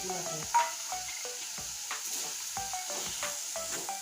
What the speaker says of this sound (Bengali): এবার আমি সুন্দর করে নাড়তে থাকবো একদম লাল লাল করে ভেজে নেবো আমি নারকেলটা